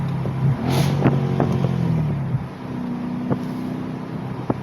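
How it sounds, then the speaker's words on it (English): A Mercedes SLK55 AMG (R172) engine with exhaust valve actuator bypass drones nearby, then briefly revs up and drops back on a throttle-blip downshift, before settling into a steady lower rumble. "Oh, that throttle blip downshift, that sounds fantastic."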